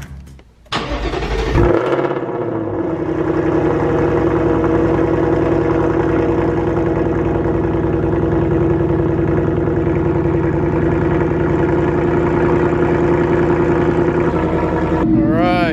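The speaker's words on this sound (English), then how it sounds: "official cold start? Let's do it." A 2024 Ford Mustang GT with a new Corsa exhaust cold starts with a sharp crank and burst, then settles into a loud, deep, steady high idle close by, with a brief rising sound at the end.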